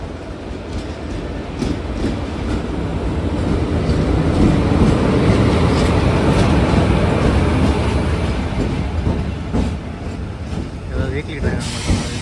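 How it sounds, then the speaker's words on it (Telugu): A passenger train on a Hyderabad to Goa run rolls along with loud, continuous clickety-clack rail clatter and rumble that builds and holds, with faint voices underneath. "ఆ ట్రైన్ కోసం వెయిట్ చేస్తున్నారేమో"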